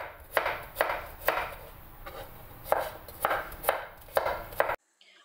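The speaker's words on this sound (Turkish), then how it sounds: "3 diş de sarımsağım var. Onları da iri iri doğrayacağım şimdi." A knife chopping garlic cloves coarsely on a cutting board in a kitchen, about ten sharp, close knocks in an uneven rhythm, alone and crisp before stopping abruptly.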